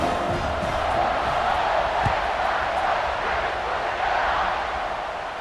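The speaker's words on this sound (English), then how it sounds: "this crowd now ready to get behind them" Stadium crowd at kickoff in EA Sports College Football 26, a dense, continuous roar of cheering and shouting that stays loud and steady throughout.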